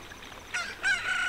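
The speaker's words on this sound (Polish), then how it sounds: "kogut, jego pijanie zawsze jakby już oznacza, że już nastał ranek" A rooster crows at dawn in the video game The Legend of Zelda: Ocarina of Time, one short, close, rising crow heard alone.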